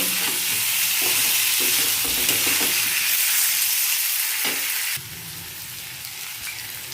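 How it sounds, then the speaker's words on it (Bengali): Shrimp stir-fried with spices in a pan give a loud, close, continuous sizzle with scraping and clattering from stirring; the hiss drops suddenly to a softer level for the last couple of seconds. "চিংড়ি মাছগুলো দিয়ে দিলাম, এটার সঙ্গে ভালো করে একটু কষিয়ে নেব।"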